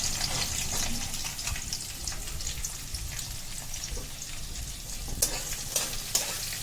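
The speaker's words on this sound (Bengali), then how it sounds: "এবার পেঁয়াজগুলো লাল করে ভাজতে থাক যতক্ষণ না লাল হচ্ছে" Chopped onions fry in a pan for a Rajasthani red mutton dish, a dense, continuous close sizzle with occasional sharp spits and utensil taps, no voices.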